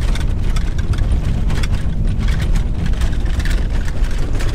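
A VW T5 van fitted with Bilstein B6 suspension drives at around 60, a steady loud low rumble of road and engine noise with faint rattling clatter from the running gear throughout.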